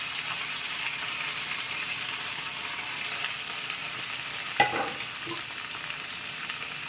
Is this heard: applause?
no